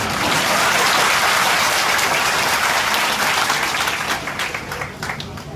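A large audience applauds at a public speech, producing loud, dense clapping that stays steady and then thins slightly toward the end.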